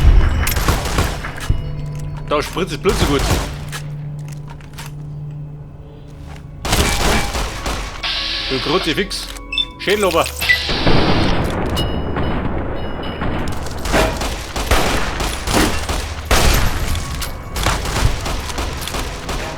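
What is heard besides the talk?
gunfire from the video game Fallout New Vegas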